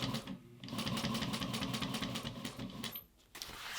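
Juki 1541S industrial leather sewing machine stitching nylon, a fast steady run of needle strokes that pauses briefly near the end and then resumes, close and loud with no talking.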